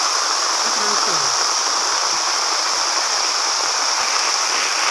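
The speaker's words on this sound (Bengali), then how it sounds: "দেখেন বৃষ্টি," Heavy rain pours steadily onto a rural vegetable plot after a hot day, a dense, continuous broadband hiss that stays loud and even throughout with no pauses.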